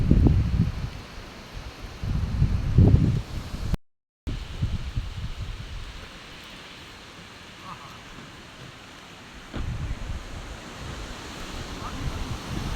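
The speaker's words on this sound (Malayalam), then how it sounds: "നല്ല കാറ്റുണ്ട്." Strong, gusty wind sweeps across misty hills beside a parked vehicle, a steady roaring rush with heavier low buffeting near the microphone at the start and end, and a brief voice in places.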